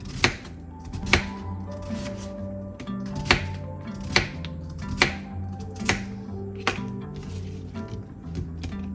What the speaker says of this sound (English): I need to cut potatoes. So I'm making stripes like this.